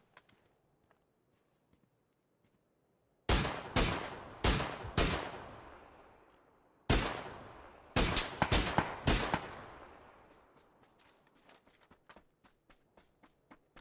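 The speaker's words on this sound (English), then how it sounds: "I heard the other guy, he's just shooting at someone else." Gunfire cracks in the PUBG video game, first a sharp burst of several loud shots with echoing tails, then a second cluster. Fainter, quick ticking follows and no one speaks.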